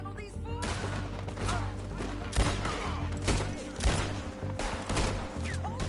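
Western gunfight in Red Dead Redemption, with repeated sharp gunshots cracking out in an irregular volley, several close and loud, over a busy battle backdrop.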